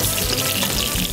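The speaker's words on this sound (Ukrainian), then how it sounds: "Соус кипить, м'ясо смажиться." Veal sizzling in a pan with butter and sauce, a steady close frying hiss that stays dense and even throughout with no talk.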